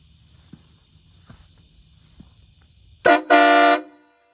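Train horns fitted to a car let out two loud, blaring blasts back to back, the second held longer, after a few quiet clicks and faint footsteps in an outdoor night setting.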